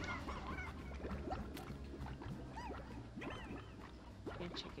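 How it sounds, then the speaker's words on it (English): Poultry sounds from chickens in the video game Slime Rancher, with a busy stream of overlapping clucks, squawks and honking calls against a steady ambient background. "Chickens."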